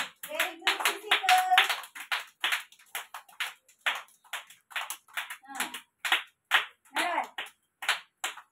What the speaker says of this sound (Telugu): క్లాప్స్ కొట్టండి క్లాప్స్ కొట్టండి